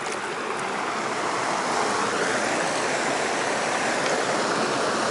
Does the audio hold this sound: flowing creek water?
yes